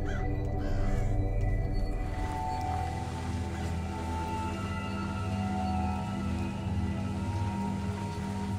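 Crows in Thief's cathedral level give scattered harsh caws over a continuous bed of rain-like hiss and low ambient drone, moderately loud and steady throughout.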